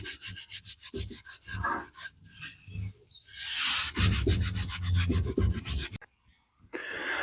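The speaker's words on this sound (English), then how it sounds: "So that's the next 14 slats, sanded and stained." Wooden slats for a camper van conversion being sanded by hand, a loud steady rhythm of rasping back-and-forth rubbing strokes close up, pausing briefly between passes, with no voices.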